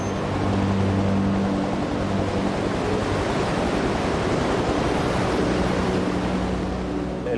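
Heavy stormy sea off the Galician coast, a continuous loud roar of crashing waves and wind-driven surf with no clear breaks, a dense broadband rumble filling the whole stretch.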